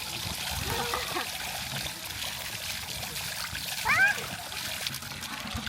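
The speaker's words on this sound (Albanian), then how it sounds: "E bërë dushi për sot" Water splashes and trickles steadily during a child's shower, close and continuous, with a brief brighter splash near the end and voices faintly underneath.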